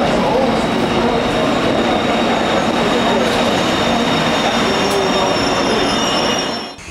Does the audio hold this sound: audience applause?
no